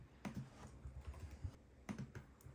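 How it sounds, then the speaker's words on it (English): Quiet, steady keystrokes on a computer keyboard beside a Kwumsy L1 ultrawide portable monitor, a soft run of clicks with a couple of louder bursts and no voices. "I am typing on this one here."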